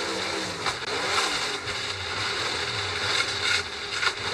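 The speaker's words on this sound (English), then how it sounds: "their strategy has been rev the engine up, we're going to push you, and then try to slam it into gear." A NASCAR Cup Series stock car engine revs at the 2025 AdventHealth 400, a muffled, steady mechanical drone with slight swells in pitch and level, fairly faint against broad background noise.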